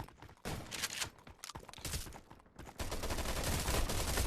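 Shotgun blasts in a video game ride battle, a rapid burst of loud shots followed by a dense barrage of continuous gunfire that builds and holds to the end, no talk heard.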